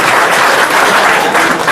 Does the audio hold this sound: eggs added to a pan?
no